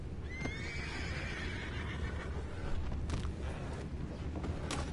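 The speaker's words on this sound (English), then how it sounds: "You mind the horses?" A horse whinnies loudly up close in Red Dead Redemption 2, a long shrill neigh, followed by hoof clops and creaking over a noisy background.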